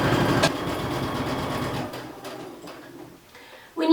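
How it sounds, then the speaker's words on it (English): A sewing machine runs quickly along the edge of a baby blanket with a dense rhythmic whir, then drops to a quieter, sparser stitching before a short loud rise at the end. "you should be able to just start sewing down the next edge"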